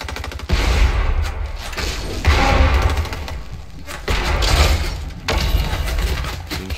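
Gunfire from other players in the Fortnite Battle Royale video game, loud bursts of rapid shots and thuds coming in repeated waves, close and heavy, with brief gaps between volleys.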